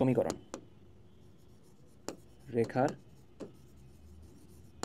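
A maths equation being written, probably chalk or pen on a board, heard as a few sharp taps and short scratchy strokes, close and fairly quiet, with a voice speaking briefly in between.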